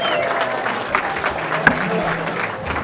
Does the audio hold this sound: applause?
yes